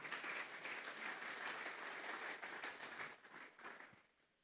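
A church congregation gives sustained applause during a Spanish-language sermon, dense clapping heard from a distance that fades out toward the end.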